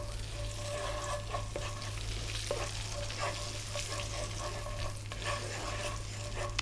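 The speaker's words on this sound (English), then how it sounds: "In go the 2 teaspoons of the cumin seeds" Cumin seeds and curry leaves sizzling in hot melted oil over medium heat, a steady, even crackling hiss with small pops, moderately quiet and unbroken, no voices.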